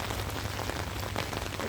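Heavy rain pours down outdoors in a dense, steady hiss that stays loud and even throughout, with no voices.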